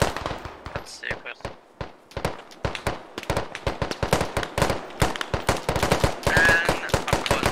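Rapid bursts of gunfire in the military shooter Squad, sharp repeated cracks in fast irregular volleys, loud and close with some distant shots, continuing throughout with faint voices underneath.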